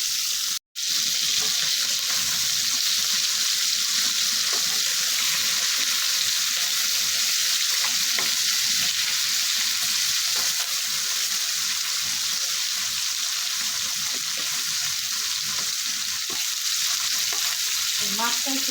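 Pieces of baila fish fry in a pan of oil, a dense continuous hiss and sizzle that stays level throughout, broken by one brief drop near the start.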